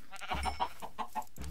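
Minecraft farm animals in Tekkit, cows among them, giving short bleating and clucking calls in a quick cluster of several cries, close and fairly clear, with no talk over them.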